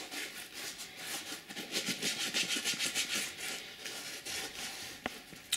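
A sponge rubs Nikwax waterproofing wax onto a leather shoe, soft close scrubbing strokes in a quick rhythmic run, faint and alone, with a small knock near the end.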